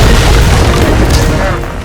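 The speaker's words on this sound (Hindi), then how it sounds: "जोरदार धमाका हुआ" A deep, heavy explosion boom as a plane crashes into an old mud house, rumbling loudly and close, sustaining for a moment before fading slightly at the end.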